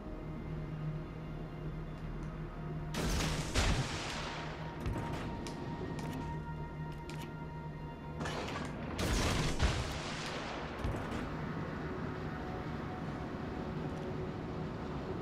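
Naval guns firing in World of Warships: Legends, a Tier 6 Skane cruiser in a battle; two loud broadband salvos a few seconds apart, each with a rumbling tail, over a steady background hum.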